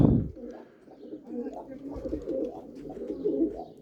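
Pigeons coo in low, soft, rolling murmurs, several birds overlapping continuously at close range.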